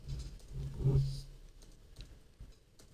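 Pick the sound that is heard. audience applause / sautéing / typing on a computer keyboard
typing on a computer keyboard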